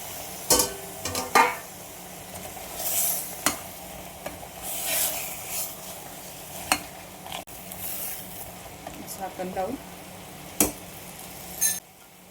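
Prawns sizzle quietly in masala in a pan while a utensil stirs and scrapes in irregular bursts, with occasional sharper clinks against the metal.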